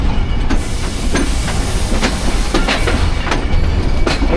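Rawal Express passenger train rolling slowly over junction track changes, with a steady loud rumble of wheels and repeated clicking rail joints at an uneven rhythm, no voices.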